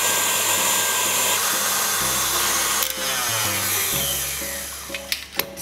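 An electric mixer whips egg whites for a pavlova meringue, a steady loud motor whir with harmonic hum that shifts pitch as the speed changes, and a few light clinks near the end.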